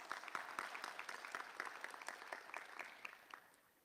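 An audience at a graduation ceremony claps steadily in a dense patter of many hands. The applause runs throughout, then fades out near the end, with no voices over it.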